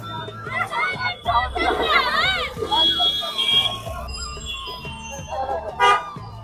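A dense crowd fills a Ganpati idol shop during the festival season, with children's voices and overlapping chatter. A continuous loud babble stays close throughout, and people talk nearby.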